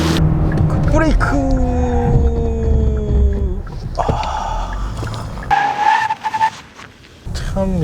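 A 2021 Kia K8 with a 2.5 gasoline engine brakes hard, its tires squealing in a long, loud skid that fades as the car slows, with a voice speaking over it.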